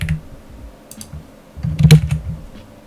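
Keys tapped on a computer keyboard while numbers are entered, a few light scattered clicks followed by a louder cluster of quick presses near the end.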